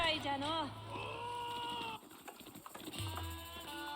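Sheep bleat with wavering, quavering cries in a medieval strategy game, the calls mixed with other animal and game sounds over a steady background, fairly close and clear.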